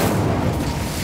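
Incendio, the fire spell in Hogwarts Legacy, bursts out as a loud, continuous roaring whoosh with heavy low rumble filling the whole moment, without pause.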